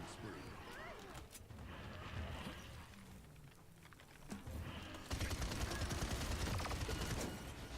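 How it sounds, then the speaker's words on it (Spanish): Gunfire in the team shooter game Paladins, rapid bursts buried in a dense, busy game mix that grows louder and harsher in the last few seconds, with a voice speaking over it. "me está disparando por atrás"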